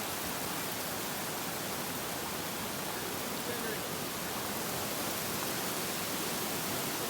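Steady broadband rush of a jungle river in rural Jamaica, running high after rain, continuous and fairly loud throughout, close by.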